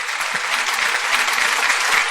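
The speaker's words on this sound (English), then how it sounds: "Round of applause." A crowd gives a round of applause for a reggae singer, with thick, continuous clapping at full loudness throughout.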